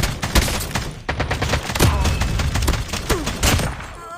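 Rapid video game gunfire, dense bursts of sharp shots crackling one after another for several seconds, loud and close, with scattered impacts and a whooshing sweep near the end.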